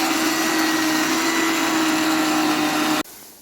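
A mixer grinder grinding spices for gongura pachadi gives a loud, steady motorized grinding whir that runs continuously, then abruptly cuts off, leaving a faint low hum.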